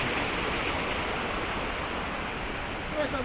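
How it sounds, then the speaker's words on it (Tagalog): Waterfall on Mt Banahaw, a steady broadband rush of falling water heard from nearby, continuous and unbroken, with a voice briefly audible over it. "Palapit na kami ng palapit sa falls."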